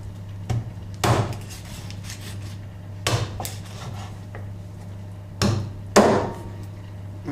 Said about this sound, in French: on est sur la fin de la découpe du lapin